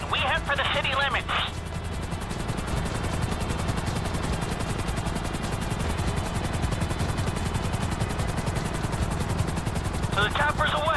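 Helicopter rotor din from Grand Theft Auto V during a heist getaway, a steady loud chopping drone throughout with gunfire-like bursts and brief voice chatter near the start and end.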